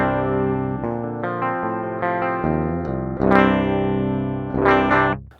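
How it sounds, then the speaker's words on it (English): A PRS SC245 electric guitar's bridge pickup plays a short phrase of sustained chords and single notes in its stock direct-input sound, loud and close, with strong accents and ringing notes that fade at the end. "Here is the stock sound of the bridge pickup,"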